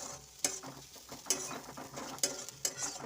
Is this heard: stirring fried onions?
yes